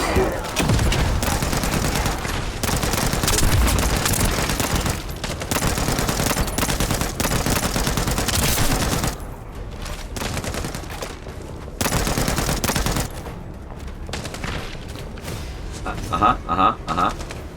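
Rapid automatic gunfire in The First Descendant shooter game, dense bursts of shots with thuds and booms, loud and continuous, dropping briefly between volleys, with a voice talking over parts of it.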